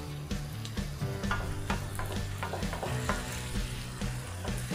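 Chicken and vegetables fry in a pan, a constant close sizzle with repeated stirring scrapes over a steady low hum.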